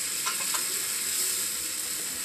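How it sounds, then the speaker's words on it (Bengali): Chili and tomato paste hitting hot oil with fried onion and garlic in a pan, giving a loud, continuous close-up sizzle and hiss with a few brief crackles. "ভেজে নেওয়ার পর লঙ্কা আর টমেটো পেস্ট করে দিয়ে দিলাম।"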